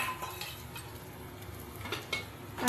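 Scooped-out pointed gourd (potol) innards stirred in a pan with a utensil, a steady scraping and light clinking against the pan with a faint background sizzle, close and moderately quiet, no talk.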